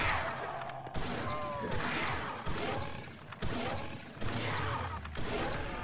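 Remington shotgun fire in the Roblox zombie shooter Project Lazarus, a series of sharp blasts spaced about a second apart over in-game noise.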